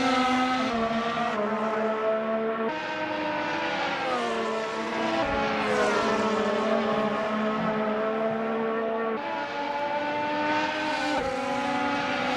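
Race cars in the Assetto Corsa racing game scream past with high-revving engines, layered whining tones rising and falling through gear shifts, loud and continuous with no talk.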